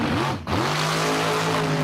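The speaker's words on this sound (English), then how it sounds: "Kyle Ballinger in the right lane in the burnout box with his 74, 75 Vega wagon." A '74-'75 Chevrolet Vega wagon drag car doing a burnout in the burnout box at Empire Dragway, engine roaring loud and close with a brief dip in revs before a steady high-rpm drone and tire scream.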